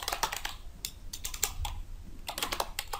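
Java code being typed on a computer keyboard, quick irregular bursts of light key clicks close up and fairly quiet, with short pauses between runs.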